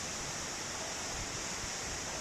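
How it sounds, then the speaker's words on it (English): A Himalayan waterfall on the Gokyo Everest trek pours with a steady, broadband rushing roar, constant and unbroken, heard fairly close with no other sounds. "The waterfall is falling with its own motion."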